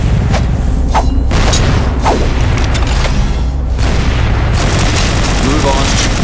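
Grenade blast in the video game CrossFire, a dense, loud booming roar filling the whole moment, with heavy low rumble and gunfire-like crackle layered throughout.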